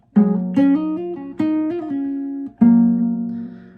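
A solo electric guitar plays a quick riff of plucked notes from the intro of a song, with rapid slurred hammer-on notes between picked attacks, clear and close.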